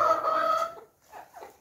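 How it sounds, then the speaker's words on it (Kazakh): Hens in a coop of about forty birds, three of them roosters, give a short run of clucks near the mic, a drawn-out call followed by a brief gap and two softer clucks. "Жалпы бұл жерде 40 тауық бар. 3-еуі қораз"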